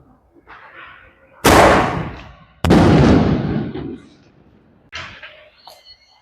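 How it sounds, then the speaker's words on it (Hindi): A Dragon Rider Kai shot firecracker bursts in two sharp, loud bangs a second apart, each trailing off into crackling, followed by a smaller pop; faint voices are heard in the background. "हमने काई शॉट को देखा कैसे वो जला और कैसे फटा"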